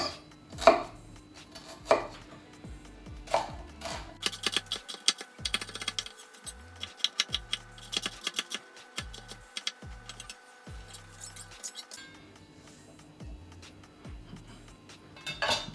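Two medium-sized onions being chopped on a board for a sweet fermented chili sauce, a rapid run of sharp knife taps in quick rhythmic bursts with a few pauses, close and clear with no talking.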